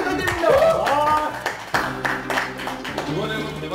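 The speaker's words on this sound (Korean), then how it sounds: "저 박수 좀 드립니다" A small group claps through a run of quick hand claps during a K-pop group's behind-the-scenes interview, with voices talking and laughing over and between the claps.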